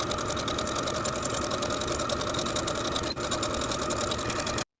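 A sewing machine hums continuously up close while edge stitching the hem of a stretch knit top, with one tiny hitch before stopping abruptly at the end.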